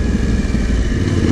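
A Yamaha Tenere 700 big adventure motorcycle riding a motocross junior track, its engine droning loudly and steadily close by for a brief moment with no change in pace.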